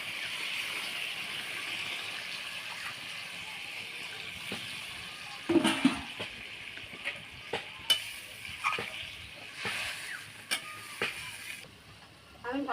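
A simmering foli fish curry with kalojira gets fried potatoes and water added, a soft steady sizzle punctuated by scattered metallic clinks and knocks of a spoon against the pan.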